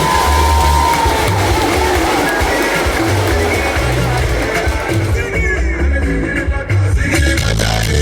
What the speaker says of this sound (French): On le félicite, on l'acclame.